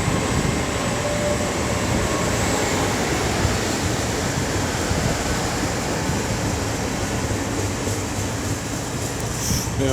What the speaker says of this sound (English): Bit of a flat wheel on the back there.